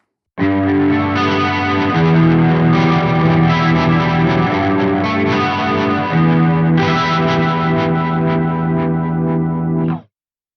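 Distorted electric guitar through a Soldano SLO-100 X amp with chorus engaged, loud sustained chords that shimmer and waver, changing at a few points before stopping abruptly near the end.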